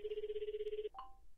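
A DDD phone rings in the video game Obey Me! Shall We Date?, a single steady electronic buzz-tone held for almost a second, then a short bright chime that quickly fades.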